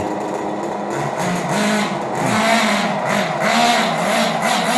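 A Kyosho nitro-engine RC car runs close by in a parking lot at night, its small engine buzzing steadily with a few rising revs throughout, no voices over it.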